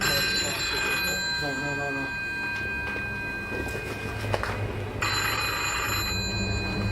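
A telephone bell rings continuously with a bright, repeating trill, loud and close, while voices are faintly heard in the room.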